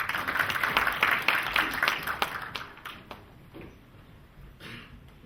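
An audience at a Korean venture forum claps for the next presenter, a burst of applause that starts strong and thins out over a few seconds before fading into scattered claps.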